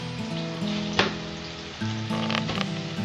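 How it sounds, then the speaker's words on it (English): Butter-coated Texas toast slices crackle and sizzle on a flat top grill skillet, a steady close fry with tonal hum underneath and a sharp clack near the one-second mark. "you just butter both sides, and you toss them on the skillet"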